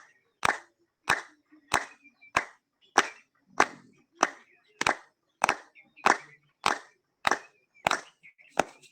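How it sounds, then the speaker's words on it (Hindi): A group claps in unison during a yoga session, about fifteen sharp, evenly spaced claps in a steady rhythm, close and loud with nothing else in between. "अब अपने लिए और सबके लिए ताली बजा लेते हैं 15 बार"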